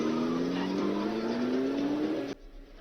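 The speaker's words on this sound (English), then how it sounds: "Once again, another car that was turned off that's been turned on." A car engine idles and hums steadily, its pitch creeping slightly upward, in a film scene where a car that was switched off is started, then cuts off abruptly near the end.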